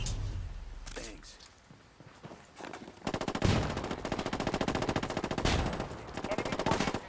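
Gunfire in a shooter video game: rapid automatic bursts growing denser and louder after a quieter opening, with game voices and effects mixed in.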